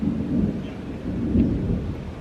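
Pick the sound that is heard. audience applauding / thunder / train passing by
thunder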